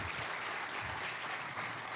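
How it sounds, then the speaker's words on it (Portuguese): A church congregation applauds together in a brief burst of dense, steady clapping that fills the room evenly from start to finish. "Vamos aplaudir ao Senhor por isso?"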